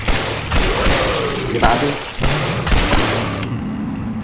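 Bursts of gunfire in the video game Nightmare House 2 come in loud, rapid volleys with heavy thumps, and someone says a few words partway through.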